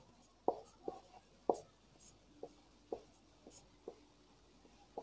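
Chalk or marker strokes on a board during a Class 10 math lesson on triangles, with about eight short separate taps and scrapes at an uneven pace, close and fairly soft, with no speech over them.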